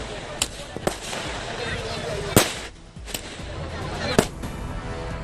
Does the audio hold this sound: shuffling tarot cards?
no